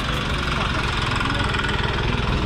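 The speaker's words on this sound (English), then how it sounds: "Riding a motorbike on the sidewalk is actually not legal." A motorbike engine chugs with a steady, rapid low putter close by on a busy Busan sidewalk, loud and continuous over street noise.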